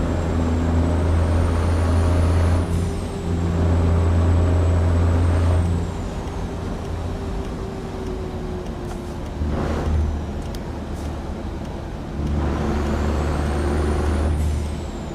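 A truck engine's blow-off valve releases sharp airy bursts between gear changes, over a loud, steady diesel drone heard from inside the cab while driving.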